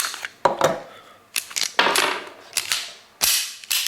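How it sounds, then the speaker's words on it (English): A Kel-Tec pistol slide is worked by hand, giving crisp metallic clacks and rattles at close range, each one separate with short pauses between, and no talk. "Seems to be cycling okay, but I'm not shooting it. I'm just, you know, manually cycling it."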